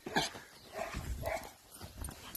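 Farm dogs bark and whimper outdoors, a few short barks and soft yelps at moderate distance, fairly faint, with no talk over them.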